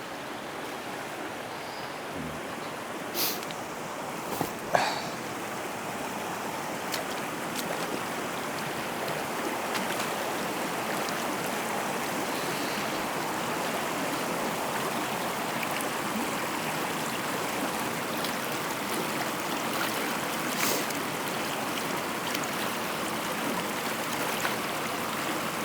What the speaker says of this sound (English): Lucky we've got the stream here to clean off.